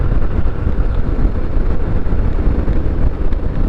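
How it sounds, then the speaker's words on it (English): Steady wind buffeting roars over the microphone while riding a Harley-Davidson Heritage Classic with its screen up, a loud, continuous low rumble of air and road with no pauses. "Let's see what this wind buffeting's like."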